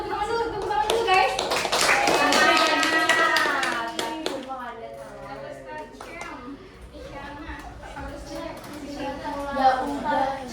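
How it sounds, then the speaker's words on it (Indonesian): Students in a grade 7 physics classroom clap for a classmate, a lively burst of many hands that fades after about four seconds, with children's voices and chatter continuing over and after it. "Isyana, tepuk tangan dulu guys."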